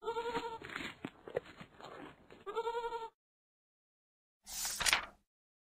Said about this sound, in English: Do you see the goat?